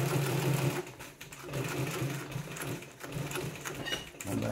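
Triple-feed industrial sewing machine stitches heavy canvas for a sailor-style bag, a steady, fast mechanical whir and needle clatter running continuously up close, with brief slowdowns and no speech.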